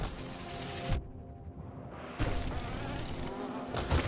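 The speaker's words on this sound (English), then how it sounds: "The cannon bee is the big problem" Insect-like buzzing from a cannon bee enemy in the Hollow Knight video game, steady and fairly loud throughout, with brief swells and a short drop-out near the middle.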